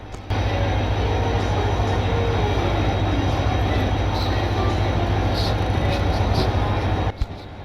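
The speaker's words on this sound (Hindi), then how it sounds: "आप लोगों को हमारे ICF कोचेस की स्लो ट्रैक साउंड कैसी लग रही है" A WDP 4D diesel locomotive hauling ICF coaches of the Kottayam-Nilambur Express in the Railworks game, moving slowly with a steady low engine drone and rolling track noise, a few faint clicks over the top.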